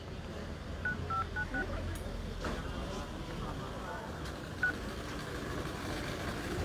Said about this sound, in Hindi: उनको फ़ोन करते हैं हम